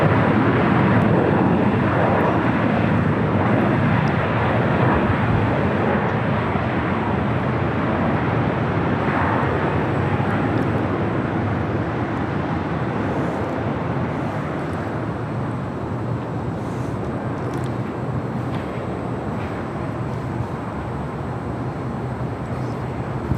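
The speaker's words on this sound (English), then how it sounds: "That was Alaska Airlines Flight 539 on a 737 MAX 9" Alaska Airlines Boeing 737 MAX 9 jet arriving at LAX, a loud, steady broadband jet roar sustained throughout and easing slightly as the aircraft passes, with no talk over it.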